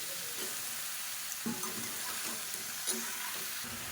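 Vegetables and brinjal fry in a pan for sambar, a gentle steady sizzle broken by several light stirring scrapes and clinks, no voices.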